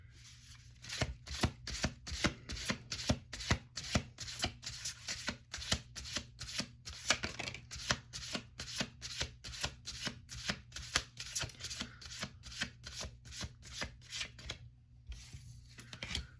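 Cards are shuffled over and over in quick riffling bursts, close and fairly quiet, with a steady low hum behind them and no talking.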